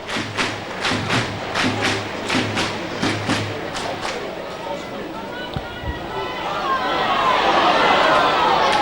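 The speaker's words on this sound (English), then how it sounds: "The Bradford fans take up the clapping ritual again." Bradford rugby fans at a stadium match against Widnes clap in a steady unison rhythm, a dozen evenly spaced crowd claps from the stands under a commentator's voice, then fading into broad crowd noise.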